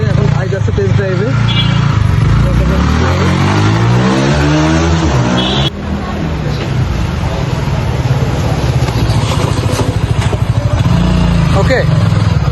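A Yamaha R15 V3 motorcycle, just repaired for an ABS fault, revs loudly and pulls away through rising and falling gears, staying close and dominant while people talk over the engine.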